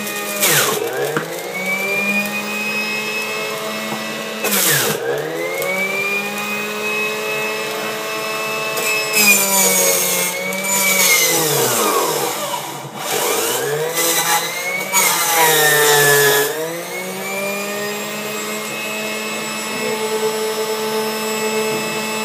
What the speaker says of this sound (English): And then I like to juice the other remaining foods. So here we're gonna do the carrots. Then we're gonna add some beets